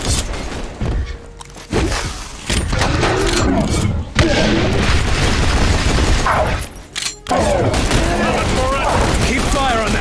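Dense, loud gunfire from The Bureau: XCOM Declassified, with repeated bursts and heavy booming shots fired against an armored Muton, alongside brief pauses and voices talking.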